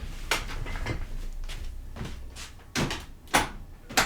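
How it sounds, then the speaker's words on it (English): On a windy day a loose door jiggles and rattles in its frame, giving irregular knocks and clacks, a few sharper bangs among softer rattles, fairly close with no voices. "It's a windy day. I got a jiggling door."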